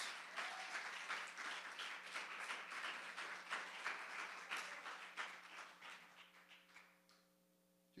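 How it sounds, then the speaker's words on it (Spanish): Congregation applauding God during a Spanish-language church service, a dense steady wash of clapping that thins and fades out near the end, leaving a faint hum. "Denle un aplauso a Dios."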